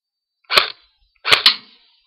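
Two sharp pops from a Crosman R72 airsoft gun, the second a quick double snap, close and loud against silence.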